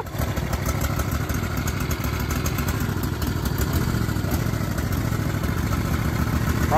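A Briggs & Stratton V-twin small engine, running rich with gas in the oil, runs on choke with a steady, loud, clattering low rumble throughout.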